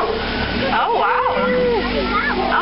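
Water sloshes and splashes steadily as a herd of Indian elephants bathes in a sacred bathing pool, a continuous wet wash with voices or calls rising over it midway.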